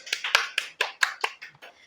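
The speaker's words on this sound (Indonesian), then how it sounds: "Tepuk tangan buat Danasra" A small group claps for a sales employee at a company gathering, a short run of about eight distinct, close hand claps that taper off and fade.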